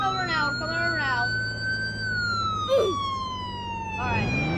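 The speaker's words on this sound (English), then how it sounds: "Is the siren too loud?" A police car siren wails loud and close, its tone sliding slowly downward in pitch, with a brief chirp or voice-like blip partway through and the wail rising again at the end.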